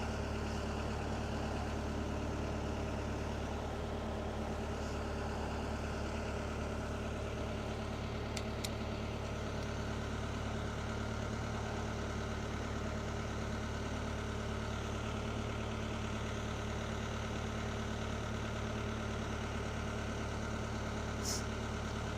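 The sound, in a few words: engine idling after cold start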